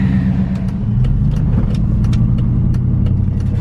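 A V8 car engine with a new Flowmaster cat-back exhaust rumbles loudly and close, a deep steady throb with a slight rev, punctuated by a few sharp clicks.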